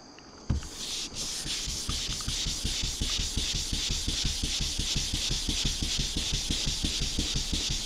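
Wet sanding with 600 grit sandpaper on the painted hood of a 2000 Lincoln Town Car, a close, rhythmic back-and-forth rasp of steady strokes repeating about three to four times per second after a brief knock at the start.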